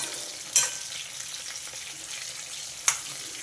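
Sliced bitter gourd frying in a pan for spicy karam, giving a soft continuous sizzle with two sharp clinks of stirring, quiet and close, no one talking.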